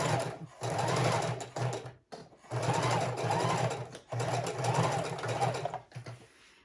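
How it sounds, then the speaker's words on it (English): A sewing machine stitches pockets onto junk journal pages made of cardstock, running in three loud, close bursts of rapid stitching separated by brief pauses, with faint talk in the background. "let's get this one sewn up"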